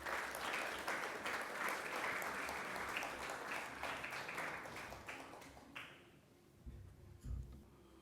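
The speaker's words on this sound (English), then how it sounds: "Ladies and gentlemen, please welcome Mr. Hassan Cenkturk with a huge round of applause." A gala dinner audience applauds to welcome a speaker, a dense round of clapping that fades out after about six seconds, leaving quieter room sound with a few soft knocks.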